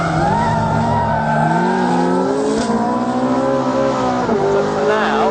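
Ferrari 458 Speciale lapping the Anglesey race circuit, its high-pitched V8 screaming loud and close, revs climbing through gears with brief dips at shifts and a faint tire squeal.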